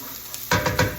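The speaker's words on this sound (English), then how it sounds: "Well, this is sauteing." Chopped mushrooms sauteing in a hot pan for mushroom soup, a soft hiss that jumps into louder sizzling bursts with stirring, close up and without talk.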